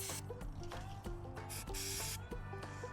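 Brake cleaner sprays onto an old, long-abandoned BMW K100 motorcycle in a couple of short hissing bursts, heard under steady background music.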